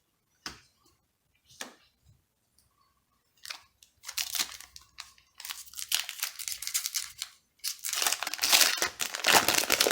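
Plastic wrapper of a trading card set booster pack crinkling and crumpling as it is torn open, a few sharp isolated crackles at first, then dense, continuous close crinkling.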